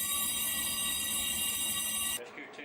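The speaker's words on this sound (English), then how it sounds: "It is now his responsibility to sound the alarm." A loud, steady electronic ship alarm blares with a harsh buzzing tone during an enclosed space entry emergency, then cuts off abruptly, leaving a brief quieter moment at the end.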